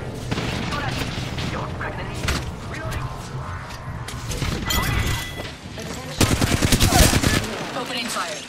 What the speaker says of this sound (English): Opening fire. Cut down an enemy.